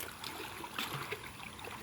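Water sloshing and trickling as a net scoops debris out of an above-ground pool, a steady soft splashing with a few brief gurgles, close and fairly quiet.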